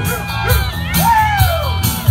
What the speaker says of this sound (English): Matthew's brought a cheering section.